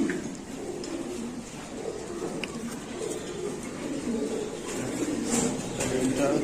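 Afsan grizzle pigeon held in hand, giving soft low coos close by while people talk continuously over it.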